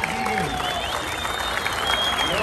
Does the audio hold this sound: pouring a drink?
no